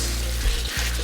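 Canned tomato juice pouring into a hot frying pan, a steady close rushing splash with a faint sizzle and a short break midway, no talking.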